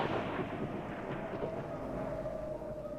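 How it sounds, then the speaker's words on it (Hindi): Thunder is used as a sound effect on a dark, stormy night in a Hindi horror story. It rolls as a low, continuous, fairly quiet rumble that fades slightly toward the end, with no voice over it. "बीच बीच में बिजली कड़क रही थी।"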